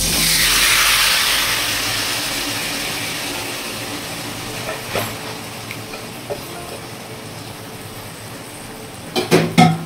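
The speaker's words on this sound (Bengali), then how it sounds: "কড়াইয়ের তেল গরম হয়ে গেছে, এখন আমি মশলাটিকে দিয়ে দেবো।" Marinated spice paste hits hot oil in a wok with a loud burst of sizzling that gradually settles into a softer steady fry, with a few scraping stirs and clatters near the end.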